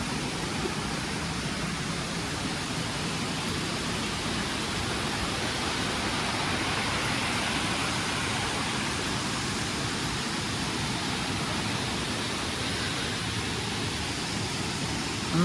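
A waterfall in Ireland roars as a steady, dense rush of falling water, loud and unbroken from start to finish with no voices.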